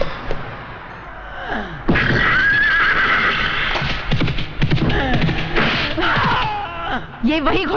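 A horse in a Hindi dacoit action film lets out a long, loud, close whinny that rises and wavers for several seconds, followed by snorts and movement noises, with people talking in between.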